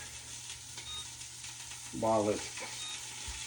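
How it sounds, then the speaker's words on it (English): Pork tenderloin and onions frying in a covered pan, a steady close sizzle with a brief louder burst midway, a faint voice speaking over it. "it lets it steam while I'm kind of pan frying it too"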